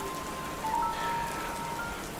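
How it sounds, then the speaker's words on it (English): Steady lukewarm rain falling in a constant, even hiss of drops on surfaces, with a faint tonal whine passing over it briefly and no talking. "this constant onslaught of lukewarm rain"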